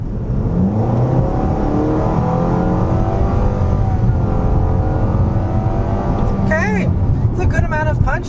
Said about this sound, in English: I'm gonna turn on this back road here and see how it accelerates